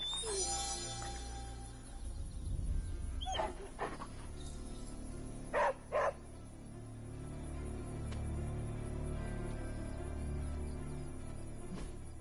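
Puppy named Charlie making a couple of short barks and whimpering sounds amid soft background noise and faint crickets, fairly close.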